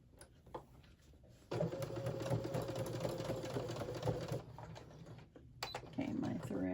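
A sewing machine stitches through a thick, layered fabric notebook cover in one steady, loud burst of a few seconds, its motor hum running evenly before it stops, with quieter handling noise around it.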